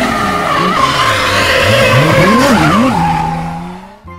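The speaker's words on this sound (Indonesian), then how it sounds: "Mobil balap." A toy race car drives with a steady whirring engine tone, then skids with squealing, wavering tire noise around the middle, running loud and close before tapering off at the end.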